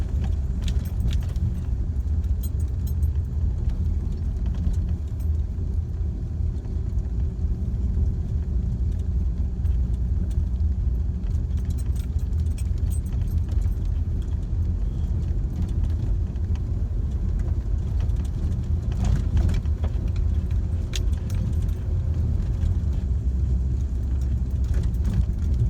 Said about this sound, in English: shackles rattling around back there.